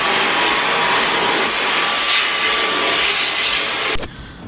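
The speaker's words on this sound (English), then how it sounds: "I've brought our Dyson, which has been the best purchase we've ever made." Dyson vacuum cleaner running close by, a loud steady whooshing roar that cuts off abruptly near the end, leaving quiet.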